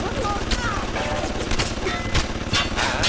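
Automatic turret fire in the video game BioShock, a steady stream of rapid shots with sharp bursts over busy game noise, while someone talks over it.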